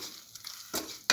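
Turmeric powder is stirred into a mixture in a bowl, a brief soft scrape with a spoon, ending on a sharper clink.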